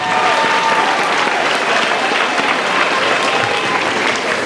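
A large crowd at a graduation ceremony applauds continuously, dense and loud clapping that holds steady throughout without a break.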